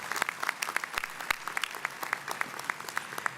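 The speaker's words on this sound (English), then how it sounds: "So I think that deserves a round of applause." Scattered applause in a hall at a university graduation ceremony, a modest crowd clapping with individual claps distinct and fairly even, moderately near.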